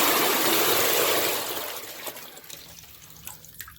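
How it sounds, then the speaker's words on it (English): A sump pump forces a loud, rushing stream of water into a bucket, then cuts off after about a second and a half, leaving faint trickling and dripping. "plug in the sump pump and turn it off, unplug it, before it fills the bucket."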